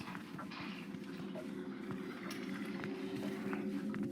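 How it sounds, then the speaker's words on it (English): Heavy footsteps of Mr. Keeler in the game Homebody, faint repeated thuds plodding along under a constant background hum, steady and somewhat distant. "I hear your heavy footsteps"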